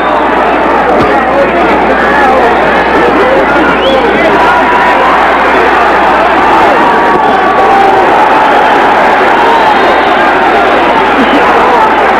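Large boxing arena crowd at a 1980 USA vs Cuba amateur bout roaring and cheering continuously, a dense wall of loud babble, shouts and whoops throughout.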